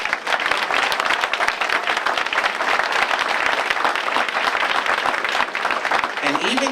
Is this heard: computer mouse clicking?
no